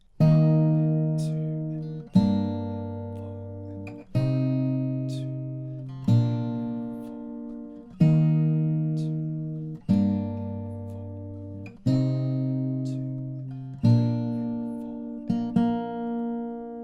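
Gentle fingerstyle acoustic guitar plays the intro of a song, chords picked one after another, each ringing out and fading before the next, roughly every two seconds, with no voice.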